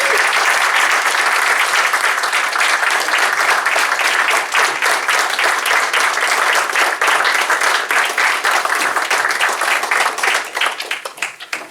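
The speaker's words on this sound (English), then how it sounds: "Let's give her one last round of applause." Crowd applause at a town council meeting, many people clapping in a full, sustained round that holds steady for several seconds before thinning and tapering off at the end.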